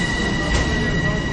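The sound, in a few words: commuter train arriving at Marble Hill station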